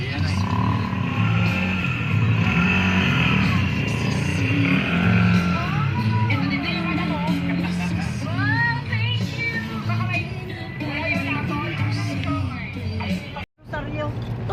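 Road traffic in Ilocos Sur, a steady roar of cars and other vehicles passing close by, with people talking over the noise throughout.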